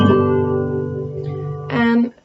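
A guitar chord, fingered with the first finger on the fifth string, rings out clearly and sustains, then a second short strum sounds just before the notes cut off.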